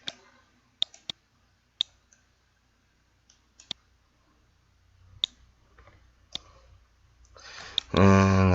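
Sharp, isolated mouse clicks, including quick double clicks, spaced irregularly against near silence while working in Autodesk Maya, followed by a sudden loud burst of noise at the very end.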